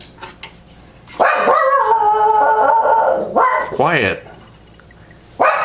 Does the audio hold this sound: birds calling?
no